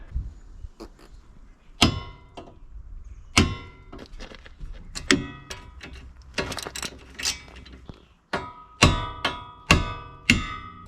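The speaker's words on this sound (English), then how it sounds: "whack it with a hammer so I can get out that way" Sharp metallic hammer strikes on a steering part of a Mitsubishi Eclipse ring out one after another at irregular intervals, close and clanging, some in quick pairs, with quieter clatter between blows.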